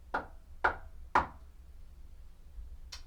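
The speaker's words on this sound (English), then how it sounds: "Can you hear that knocking?" Three sharp knocks on wood inside a house, evenly spaced about half a second apart, then a fainter tap after a pause, in an otherwise quiet room.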